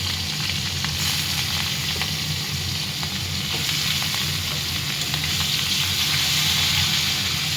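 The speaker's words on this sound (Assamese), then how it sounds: "তেলখিনি গৰম হৈছে, তেলখিনি মাছটো দি দিছোঁ" Bhokua (catla) fish frying in hot oil in a small kadai: a loud, steady, continuous sizzle with no talking.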